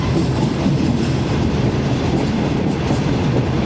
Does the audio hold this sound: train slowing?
yes